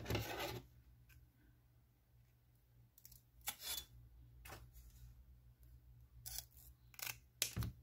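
Scissors snip through a crocheted piece for a baby shoe, a few short, close, crisp cuts and rustles at irregular intervals over a faint low hum.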